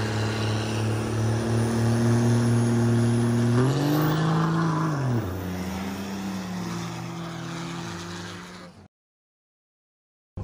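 A race car engine at a dirt drag racing truck meet, a loud steady harmonic drone that rises in pitch around the middle, then eases and holds before cutting off abruptly near the end.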